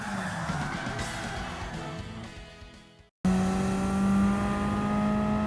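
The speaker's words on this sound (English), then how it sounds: "let's do a handbrake turn across the sector line" Race car in Gran Turismo 7 at Brands Hatch swings through a handbrake turn: engine roar and tire noise fade out, a short gap of silence follows, then a steady engine drone returns.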